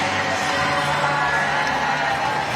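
Stadium crowd cheering steadily for a shot put final winner at an indoor athletics championship in Apeldoorn, a continuous loud roar of applause and shouts without pause.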